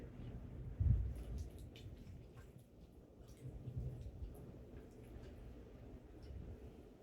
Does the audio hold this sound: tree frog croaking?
no